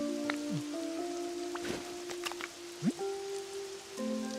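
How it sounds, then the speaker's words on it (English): Steady rain patters on a surface in the video game Pokopia under layered synthetic game tones and brief sliding blips, with a soft thump near the end. "Go see the cave before the rain stops falling."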